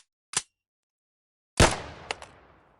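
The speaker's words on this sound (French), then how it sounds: "Un dernier coup de feu retentit." Gunshots ring out inside a house at night: a short sharp crack, then after a pause a louder bang with a lingering reverberant tail and two smaller cracks, with no voices.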